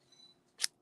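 A single quick snip of scissors cutting paper in a card-making craft setting, one short crisp bright sound in near silence.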